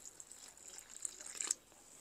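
Faint trickle of water poured slowly into a dough of mashed potato and corn masa, a thin hissing stream that swells briefly and then stops, heard without talk.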